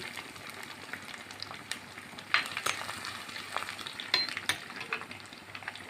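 Garlic and ginger frying in hot oil with popped mustard seeds for a fish curry, a steady close sizzle with scattered crackles and pops and a few clinks of a spoon stirring the pan.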